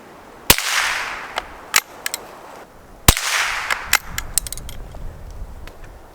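A Schultz & Larsen Otterup .22LR rifle fires Aguila Supermaximum hollow point rounds at an outdoor range: two sharp, loud cracks about three seconds apart, with smaller clicks and clacks of the action in between and afterwards.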